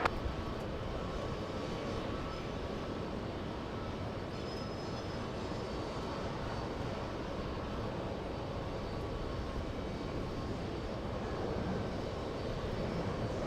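An Embraer E-175 jet taxis at JFK airport, giving a steady, continuous engine roar and whine that holds at an even level throughout, fairly near, with no voices.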